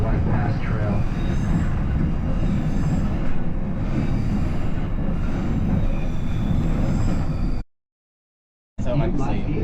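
A steady rumble of the White Pass excursion train near Skagway picking up speed, with rhythmic rolling and rattling throughout, briefly cutting to silence near the end, with faint voices underneath.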